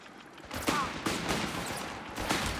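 A skirmish in the video game Company of Heroes 3 brings loud bursts of rifle and machine-gun fire, several volleys cracking in quick succession with a dense, echoing battlefield din.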